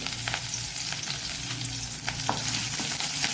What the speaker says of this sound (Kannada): ಈ ಒಂದು ಸಣ್ಣ ಹೆಚ್ಚಿದ ನೀರುಳ್ಳಿ ಸ್ವಲ್ಪ ಕಲರ್ ಚೇಂಜ್ ಆಗಬೇಕು, ಅಷ್ಟು ತನಕ ಹುರಿಯೋಣ